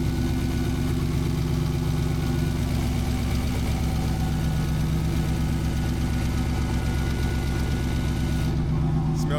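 A Dodge Challenger running on E85 with a weak battery and an unfinished exhaust system idles steadily, a loud, close, continuous low rumble with a slightly uneven lope throughout.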